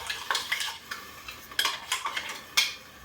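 A spoon scraping and clinking around the inside of a mixer jar being rinsed out, irregular close metallic taps and rattles at an uneven rhythm over a faint wet background.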